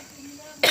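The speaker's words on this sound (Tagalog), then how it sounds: "Bakit naman kaya inuubo ako bigla?" A single sharp cough bursts out near the end after a brief quiet stretch, close and loud.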